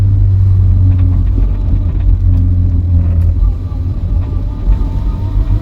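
A barn-find Vauxhall Viva rumbles steadily on a test drive, a loud close engine drone with interior road noise, while people talk over it.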